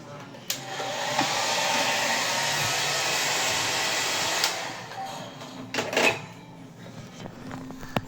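A hair dryer in a hotel room blows with a steady, loud whir for several seconds, then cuts off, followed by a few clicks and handling noises.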